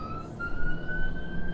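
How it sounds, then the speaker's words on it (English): Outside a window, a police car siren holds a steady wailing tone through the whole short moment, fairly loud over a muffled background, with no talking. "really loud police car outside my window"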